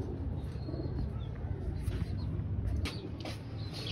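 Pigeons cooing softly in a low, continuous murmur, with faint chirps and steady outdoor background noise.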